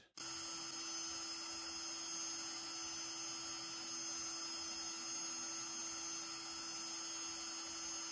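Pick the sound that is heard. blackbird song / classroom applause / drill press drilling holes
drill press drilling holes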